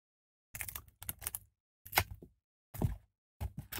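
A hobby cutter snips small pieces for a stainless-steel board, giving a series of sharp, close clicks and snaps in about five separate bursts against a silent background.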